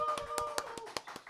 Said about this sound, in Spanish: Un aplauso para mi amigo Nacho.